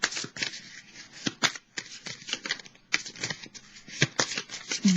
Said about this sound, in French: je vais piger une carte pour terminer